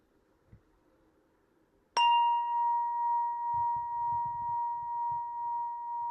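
A single bright bell strike rings out and sustains with a slow, wavering decay, following near silence, with faint low rumbles underneath.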